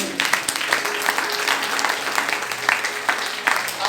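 A church congregation claps and cheers steadily throughout, a dense, continuous wash of applause in a reverberant worship hall with voices mixed into the crowd noise.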